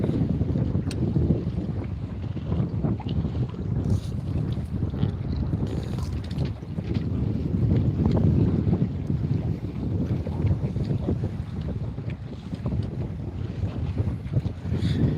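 Steady wind buffets the microphone on open ocean around a houseboat, a constant low rumbling roar with gusty swells and no speech.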